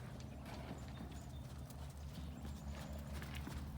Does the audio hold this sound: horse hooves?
yes